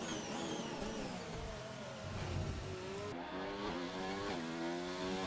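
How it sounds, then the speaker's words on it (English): A race car engine in a sim racing game at Monaco screams through the gears, pitch climbing and dropping with shifts, steady and close with no voices. "The sound of the Deja Vu's engine is going on."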